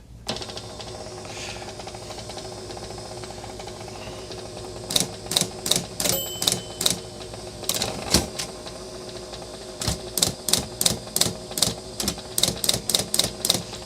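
A 1935 IBM Model 01 electric typewriter typing in bursts of sharp, rapid mechanical keystrokes with clattering pauses between, over a steady motor hum; heard close up with no voices.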